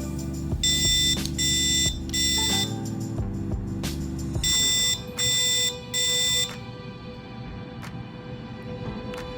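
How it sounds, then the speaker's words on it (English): Arduino smoke-alarm buzzer sounding in repeated loud electronic beep bursts, regular on-off pulses close by with a lower tone underneath, then fading into a quieter hum; no talking. "You can see our light flashing and our buzzer going off."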